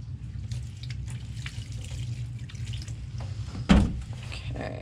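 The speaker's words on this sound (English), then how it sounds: "let me get a little bit more water" Water poured onto worm bin bedding of shredded cardboard and coconut coir, a steady close trickle and splash with a brief louder gush near the end.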